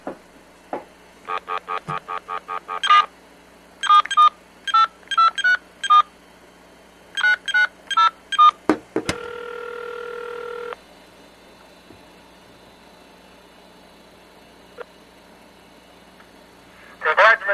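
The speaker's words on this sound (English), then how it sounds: "Now, I'm going to dial" A landline telephone dials a number in quick bursts of DTMF tones. Clipped groups of beeps are followed by a longer steady tone, then near silence, then a faint trailing sound, all loud and close with no talking.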